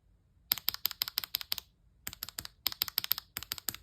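Typing on a LEOBOG Hi75 mechanical keyboard with its switches: two close, crisp bursts of rapid keystrokes separated by a short pause, with no voices.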